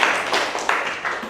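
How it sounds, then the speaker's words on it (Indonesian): A small group, likely children in a classroom, claps together in a short burst of a few uneven rhythmic claps, close and fairly loud, with no talking. "Kita beri tepuk tangan bersama-sama."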